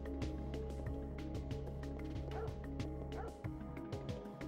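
A police dog in the video game Parasite Eve barks and yips repeatedly in a steady rhythm, with a few whimpers, over constant low game music and a background hum; no one speaks.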